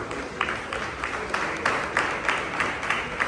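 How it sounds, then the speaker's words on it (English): An audience applauds at a team introduction, steady moderate clapping spread across the room with no talking over it. "Please give a round of applause."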